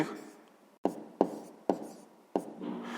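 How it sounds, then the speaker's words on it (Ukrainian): A pen or chalk writes out a math answer in quick scratchy strokes, with four sharp taps between the strokes over a few seconds, alone and close by. "Записуємо відповідь"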